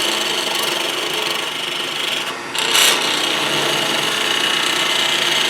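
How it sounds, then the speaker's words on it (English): A skew chisel takes a planing cut along wood spinning on a lathe, a steady, close, continuous hiss of shaving that runs unbroken, with one brief dip and swell partway through. "laying it on the top of the piece like this and doing a planing cut"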